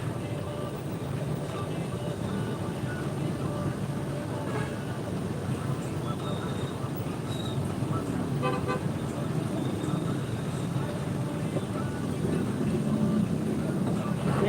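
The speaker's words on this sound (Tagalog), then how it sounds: "Asahan mo na talaga yung traffic dito." Steady road traffic hums in a jam around 10 o'clock, with a few short car horn toots near and far over the continuous engine rumble, heard from inside a truck cab.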